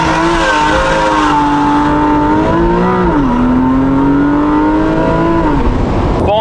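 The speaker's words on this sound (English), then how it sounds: "Launch control out of the toll booth" A car launching hard from a motorway toll booth under launch control, engine revving loud and close with a sustained rising-and-falling harmonic drone through several gear pulls, tire noise faint underneath.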